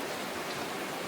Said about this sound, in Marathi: भर पावसात